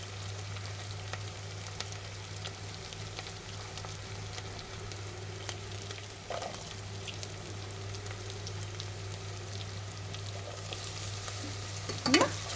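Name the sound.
stirring and frying carrot, beetroot and tomato vegetables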